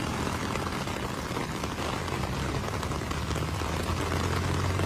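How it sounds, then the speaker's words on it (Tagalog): Heavy rain pouring down during flooding in Marikina, a loud, dense and continuous wash of noise with no break, no voices over it. "bumuhos na naman yung napakalakas na ulan dito."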